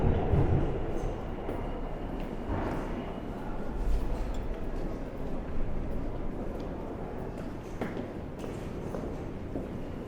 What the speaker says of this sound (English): I just got out of the train.